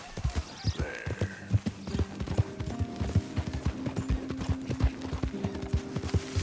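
A horse in the video game Red Dead Redemption 2 trots with steady, rhythmic clip-clop hoofbeats close by, over soft tonal background music.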